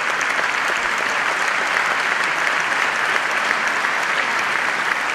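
An audience at an awards ceremony gives sustained, even applause, dense clapping from many hands that holds steady for the whole stretch.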